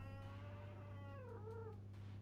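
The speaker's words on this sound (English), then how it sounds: "Wow, that was my cat." A house cat lets out a drawn-out, wavering meow, faint and fairly close, over a steady low electrical hum with no talking.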